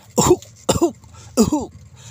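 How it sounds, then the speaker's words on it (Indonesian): Three distinct coughs, evenly spaced and fairly close, each a short throaty burst with a slight voiced tail, no talking. "terdengar suara orang batuk ketika pintu gudang itu tertutup"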